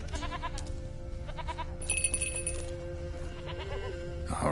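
A goat bleats in The Witcher 3 over steady game ambience and background music, a few short bleats mixed in among layered tones, moderately loud.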